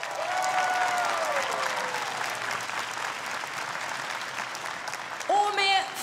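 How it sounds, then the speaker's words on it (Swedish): Applause from the audience at a Swedish National Day ceremony, honoring the house band and its bandleader: steady, dense clapping from a large crowd throughout, with a few voices over it and a short whistle-like tone near the end. "Och så vill vi också förstås ge en rungande applåd till vårt husband"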